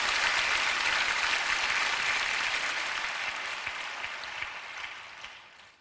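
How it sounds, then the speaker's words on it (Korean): Church congregation applauding at a prayer meeting, a dense wash of clapping that starts full and steady, then gradually thins and fades out over several seconds. "하나님께 박수 올려드리시죠."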